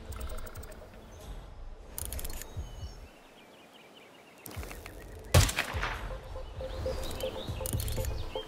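Sniper rifle fire in Hitman 3, in a quiet outdoor setting with birdsong: a sharp crack stands out among a few softer reports, with the shot ringing briefly over the birds.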